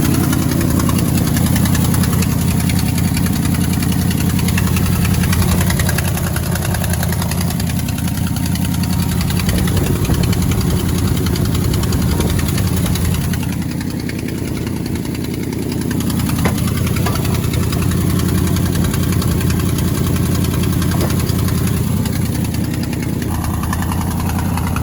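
Ford Highboy truck idling after a cold start in snow, a loud, steady low rumble with constant mechanical clatter that dips slightly in level midway, heard up close with no talking.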